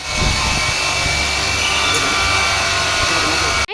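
A small drill machine runs continuously in a loud, close, steady whirring whine with rough grinding texture, cutting off abruptly at the end.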